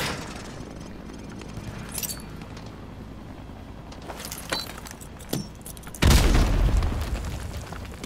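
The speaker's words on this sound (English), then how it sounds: "Toss the grenade down the range to take out several targets at once." Frag grenade blast on a firing range in Modern Warfare 2 Remastered, a sudden heavy boom near the end that rolls out and fades, preceded by faint scattered clicks and gunshots against quiet range ambience.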